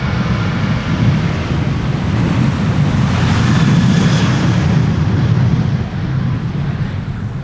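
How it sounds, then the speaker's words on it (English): A Transavia jet departs Schiphol bound for Hurghada, its engines a loud, steady roar blended with gusty wind buffeting the microphone throughout. "this is Transavia, flight 1445, on its way to Egypt in Hurghada"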